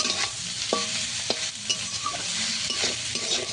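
Drumstick leaves and onion frying in a pan, the spatula scraping and tossing in several distinct strokes over a constant close sizzle, with no talking.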